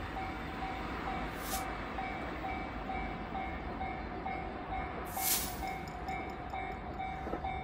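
A JR 223 series electric train rolls past a level crossing with a steady loud rumble and hiss, two sharp hissing bursts breaking through while a faint tone hums underneath.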